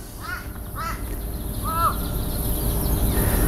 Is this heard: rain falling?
no